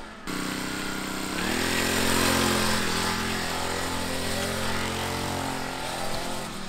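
Small 40cc Kickin Dirt Kicker kids' dirt bike engine starting up and buzzing, revving gently to a higher, steady drone with a timid throttle, then easing back down near the end.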